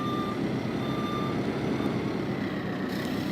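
Reversing beeps from a Manitou telehandler in Farming Simulator 17, a steady backup alarm riding over a loud, continuous engine drone.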